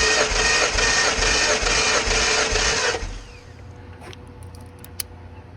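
Engine spinning over on the starter during a cylinder compression test, a steady rhythmic cranking chug for about three seconds that then stops, followed by quiet clicks and handling noises.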